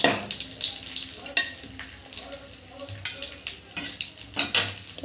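Black and white cumin seeds crackle in hot oil while a utensil stirs and clinks against the pan, with uneven bursts of sizzle and metallic knocks close by.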